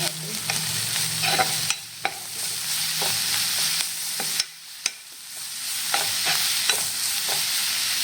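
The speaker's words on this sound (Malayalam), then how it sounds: "ഒരു പച്ചമുളക് ഇളക്കി കൊടുക്കാം" Green chilies frying in a pan, with a steady oil sizzle broken by repeated spatula scrapes and clinks as they are stirred, close and loud throughout.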